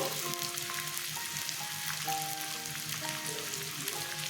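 Ginger and green chili frying in oil in a pan, a steady soft sizzle with faint crackling throughout, fairly quiet and alone with no voices.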